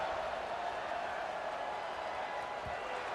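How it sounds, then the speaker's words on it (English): Stadium crowd noise from a simulated college football game, Georgia at Auburn, in EA College Football 26: a steady, loud, broadband buzz of massed fans that holds without pause after a score, around a kickoff. "this crowd is buzzing after that last score"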